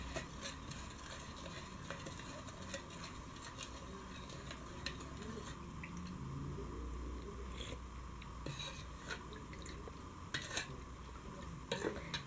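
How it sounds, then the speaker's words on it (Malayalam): Salt being stirred into spiced Kerala buttermilk, soft scraping and clinking of a utensil against the vessel over a steady background hum, close and quiet, no speech. "ഉപ്പ് ചേർത്ത് നന്നായിട്ട് ഇളക്കി കൊടുക്കുക"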